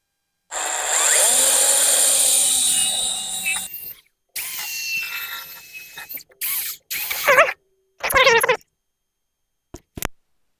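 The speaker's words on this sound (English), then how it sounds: "I'm going to go ahead and drill me a pilot hole." A power drill whirs steadily for a few seconds drilling a pilot hole during a fuel pump repair, then stops and restarts in several shorter bursts, close by with no talking.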